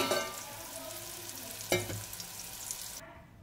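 Mixed vegetables frying in a pan for a Bengali mustard vegetable dish, a quiet continuous hiss with a single louder clatter midway, cutting off abruptly toward the end.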